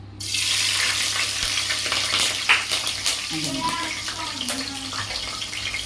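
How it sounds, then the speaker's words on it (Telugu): Green chillies fry in about three tablespoons of oil inside a pressure cooker for a country chicken curry, a close, steady crackling sizzle running throughout with occasional metal clinks and stirring scrapes. "కుక్కర్ పెట్టుకొని అందులోని ఒక మూడు టేబుల్ స్పూన్ల ఆయిల్ వేసుకుని పచ్చిమిర్చి వేసుకోవాలండి"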